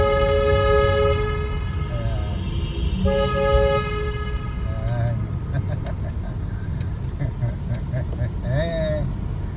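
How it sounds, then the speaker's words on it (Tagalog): Vehicle horns honk repeatedly inside a tunnel, long steady blasts echoing over a constant rumbling roar of traffic, with shorter toots breaking in toward the end. "Dito sa loob ng tunnel, ready ko yung busina ko."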